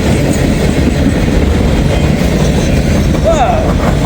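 A railway geometry train rolls past on the tracks, a loud, close, continuous rumble of wheels and cars with a brief squeal near the end.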